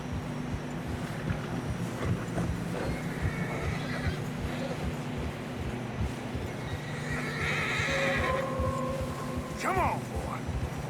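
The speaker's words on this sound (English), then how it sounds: "Horses are getting tired." Horses in Red Dead Redemption 2 gallop through fresh snow with steady rhythmic hoofbeats, a loud neigh and whinny rising near the end, over wind and low background rumble with some speech.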